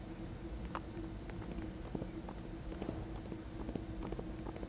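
Light rhythmic video game horse hoof clip-clop, fairly steady and close, over a busy background hum with occasional soft clicks.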